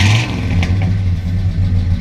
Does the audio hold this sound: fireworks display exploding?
no